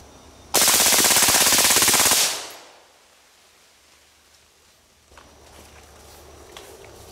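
A suppressed full-auto AR-15 rifle fires one long burst of rapid shots lasting under two seconds, loud and close, then cuts off into quiet outdoor ambience with a few faint footsteps and rustles.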